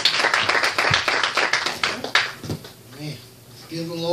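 A congregation at a Wednesday night revival service claps hands in praise, a loud, rapid run of close claps that fades as voices and singing take over.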